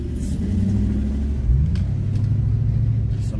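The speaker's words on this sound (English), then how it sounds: "So I'm driving." A car engine rumbles while driving, a loud, close, continuous low drone heard from inside the vehicle with a slight swell midway.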